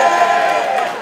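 A live crowd at a rap battle roars and cheers loudly and continuously, a dense wash of voices filling the space for a second.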